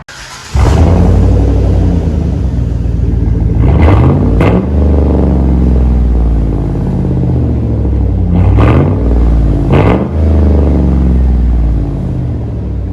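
A 2011 GMC Sierra with a 5.3L V8, muffler deleted and running straight pipes, starts with a loud rumble and holds a deep, close idle, punctuated by two pairs of sharp throttle revs that roar up and fall back.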